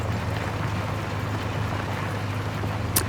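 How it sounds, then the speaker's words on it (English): A tractor engine running in the Farming Simulator video game, a steady low drone with a constant hum and faint rumble, even and unbroken, with a brief click near the end and no talking. "Listen to the tractor."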